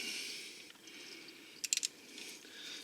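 A wrench works loose a painted 12 mm axle drain bolt on a Kubota B2261 compact tractor, giving a quick cluster of three or four faint metallic ratcheting clicks amid quiet background hiss, with no talking.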